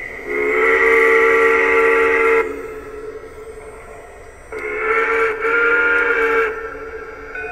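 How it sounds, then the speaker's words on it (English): A model train's quilling steam whistle sounds two long, loud, sustained blasts with a short quiet pause between them. The second blast wavers in pitch before the whistle cuts off and soft background noise remains. "Got the quilling whistle."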